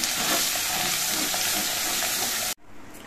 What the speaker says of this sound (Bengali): পেঁয়াজ, রসুন, আদা, কাঁচা লঙ্কা, কাজু বাদাম এগুলো দিয়ে গ্যাসের ফ্লেমটা কমিয়ে দিতে হবে